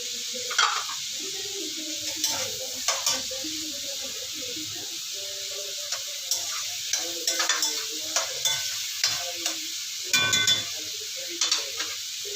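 Garlic, onion and tomato sautéing in a pan for pakbet, with a steady sizzle broken by repeated scraping stir strokes from a spatula, close and fairly loud, with no talk.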